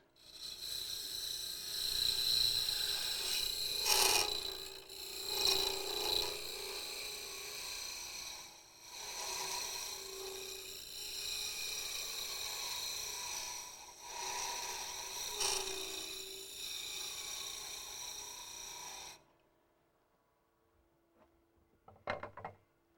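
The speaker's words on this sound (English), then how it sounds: "Next, I'm going to straighten out the walls. I'm just using a scraper." A long-tapered hand scraper smooths the inside walls of a three-sided wooden box, making repeated rasping strokes with brief pauses for about nineteen seconds before going quiet, then a few faint taps.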